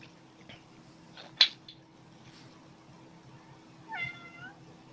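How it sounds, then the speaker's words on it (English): A house cat gives a short meow, then a longer wavering meow a few seconds later, fairly near against a quiet room with a low steady hum and no talking. "I think my cat is trying to talk to Sylvia."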